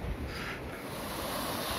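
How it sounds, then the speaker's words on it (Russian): Rushing water of the small Is river in the Urals, running high and pouring through trees and bushes at a natural dam; a steady, broadband roar, close and continuous with no voices. "Сквозь деревья вода хреначит."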